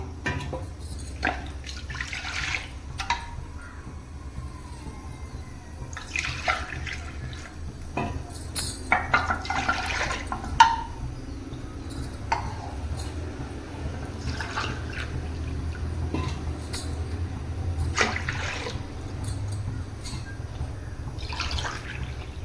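Water trickling and dripping into a pressure cooker for ragi millet porridge over a steady low background hum, with occasional clinks and splashes.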